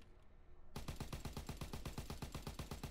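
After a brief quiet moment, a P-Hami gun in Call of Duty fires a rapid, evenly spaced stream of sharp, punchy shots, loud and close, continuing to the end.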